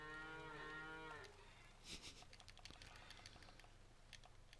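Cattle in the farming game Farmers Dynasty give one long, loud, harmonic moo lasting just over a second, followed by quieter in-game ambience with scattered clicks and a faint low hum.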